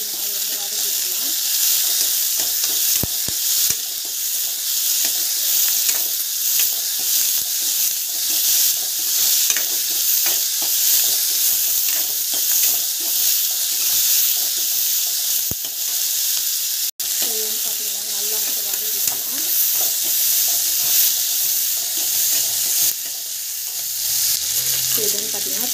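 Garlic, onion and fenugreek sautéing in a pan for kara kolambu, a continuous loud sizzle with a spoon stirring and scraping now and then, no talk over it.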